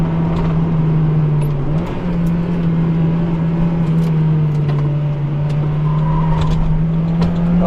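A modified Mazda MX-5 is driven hard through corners, its engine droning loudly and steadily with a brief dip and recovery in pitch as revs shift, heard close from inside the cabin.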